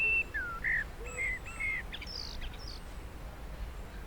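Small birds sing and chirp in Sheffield General Cemetery, a wooded Victorian burial ground and nature reserve, with several short, clear, high phrases and whistles spread over quiet outdoor background, moderately close, no voices.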